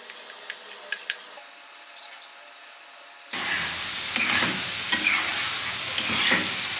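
Small pieces of cut omelette go into a simmering onion masala curry, giving a quiet start and then a steady sizzling bubble with occasional stirring clicks for several seconds, close and without talk.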